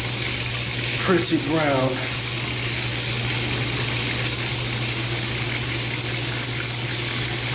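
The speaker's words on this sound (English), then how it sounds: "Got a little bit more water that's coming out of this pipe" Water gushing steadily out of a pipe during a maintenance job, a continuous broadband rush that runs throughout, with someone talking briefly over it near the start.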